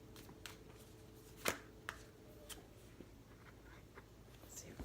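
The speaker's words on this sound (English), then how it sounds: "I always like it when I'm shuffling like this and one pops out." A deck of playing cards being shuffled by hand close up, with soft riffling and a few sharp card snaps spread across a quiet, hushed room.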